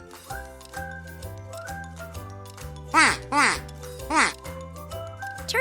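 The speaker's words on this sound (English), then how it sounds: "I am a duck." A farm duck quacks in three loud, evenly spaced calls over a bouncy background tune.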